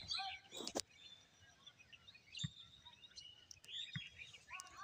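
Birds chirp in rural countryside, with faint, scattered short calls and trills over quiet outdoor ambience and a few soft knocks.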